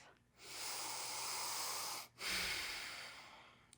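Deep, slow breathing during a yoga session: one long airy inhale swells and holds, breaks off briefly, then a second long breath follows, close and hissing with no talk.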